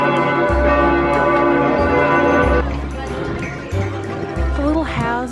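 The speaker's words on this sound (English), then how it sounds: "You can hear all the bells going off." Church bells ring loudly and repeatedly at noon in a clanging, overlapping peal, with talk and background chatter mixed in.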